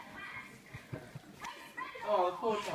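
A dog whimpers and yips in short, uneven bursts close by, the whines rising toward the end, with a person talking over them in a home.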